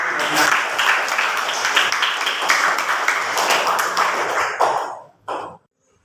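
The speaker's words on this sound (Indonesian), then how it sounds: "Beri aplaus atau tepuk tangan untuk jawaban teman-teman kalian" A classroom of students applauds classmates' answer about types of water in an Islamic jurisprudence lesson: dense clapping for several seconds, then stopping abruptly with one short final burst.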